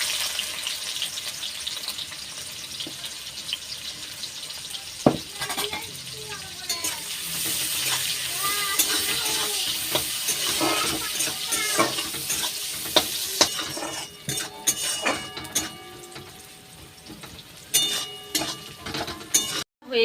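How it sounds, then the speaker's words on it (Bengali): Onions frying into crisp beresta for a home-style egg biryani, a steady close sizzle with stirring scrapes and occasional clatter running throughout, no talk over it. "এইবার বেরেস্তা ভেজে নেব।"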